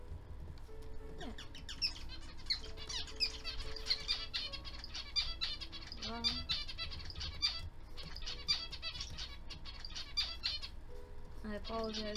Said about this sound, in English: I apologize for the birds, but they're too cute